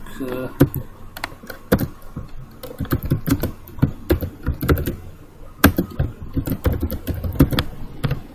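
Rapid, uneven clatter of keys on a computer keyboard while a word processing title is typed, close and crisp, with someone speaking over the tapping.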